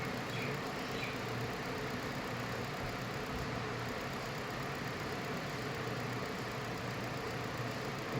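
A petrol 1.8-litre car engine idles steadily after an ECM replacement, a constant mid-low hum with a slight knock as the revs are brought down, heard alone without talk.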